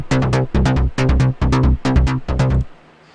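Loud mid bass synth from an FL Studio dance track hits in six chunky, pumping bursts in a steady rhythm, then cuts off into near silence, with no voices.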